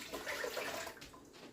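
Rhubarb juice poured into a stainless steel saucepan gives a soft, steady liquid pour with a gentle splashing trickle that lasts about a second and a half, fairly quiet and with no voices over it.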